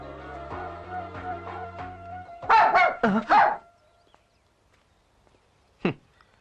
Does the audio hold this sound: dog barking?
yes